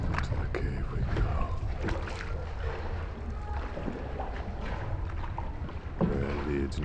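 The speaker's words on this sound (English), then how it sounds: "hop in that rowboat, and go for an awesome paddle through the cave." A rowboat is paddled through a cave in Laos, with close, sloshing water and dull knocks from the paddles, heard against steady wind-like rumble and a short voice near the end.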